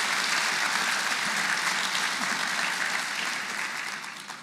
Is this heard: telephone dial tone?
no